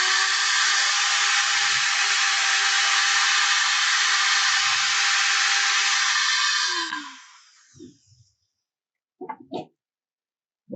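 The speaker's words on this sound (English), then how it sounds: "where I'm going to be sanding, and the piece of wood's coming up towards me" Sandpaper rasps against a spinning wooden candy dish on a lathe, a loud, steady hiss over the motor's hum for several seconds, then the lathe winds down and a few soft knocks and taps follow.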